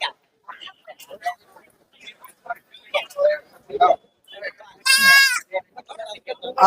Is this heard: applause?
no